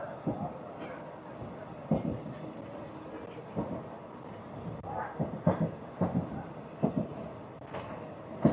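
A DEMU diesel train runs along the Renigunta–Kadapa line, a fairly quiet interior rumble broken by irregular rail-joint clunks and knocks that come in small clusters over a steady low drone.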